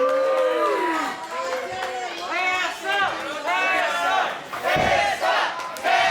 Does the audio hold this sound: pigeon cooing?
no